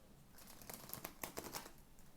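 Tarot cards being shuffled by hand in a quiet room, a soft run of crisp riffling flicks and slides lasting about two seconds, faint and close.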